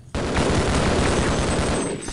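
Rapid, sustained gunfire from a game weapon in Half-Life, a dense, continuous burst of loud shots running nearly the whole stretch after a short quiet start.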